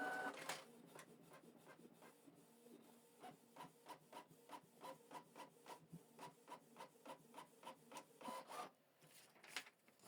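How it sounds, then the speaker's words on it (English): A Canon Pixma TS3450 printer prints a test page, its print head shuttling in a quick regular rhythm of soft mechanical strokes, quiet and close, followed by a few louder clunks near the end. "If you want to print out a test page to confirm that the printer is working"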